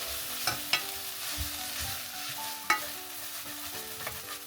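Steady frying sizzle as water is added to browning onions in a pot for homemade curry roux, with occasional scraping and stirring clacks, close by, no talking.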